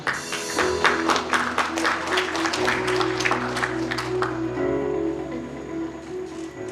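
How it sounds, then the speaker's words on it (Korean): Attendees at the Haenam Hwawon industrial complex investment briefing clap to welcome the head of the Jeollanam-do investment attraction division, a brisk burst for about four seconds before fading under steady tonal hum. "여러분 과장님을 박수로 환영해 주십시오"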